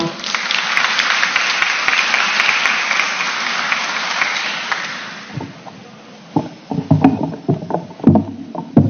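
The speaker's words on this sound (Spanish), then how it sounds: "le damos un fuerte aplauso" Applause from a forum audience welcoming a vice minister to speak at an event on women's political participation, steady clapping for about five seconds that fades, then scattered clattering and movement noises.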